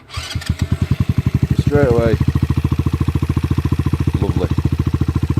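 A Sinnis Apache 125 motorcycle cranks and fires, then settles into a steady, close, rapid single-cylinder idle putter, with someone briefly talking over it.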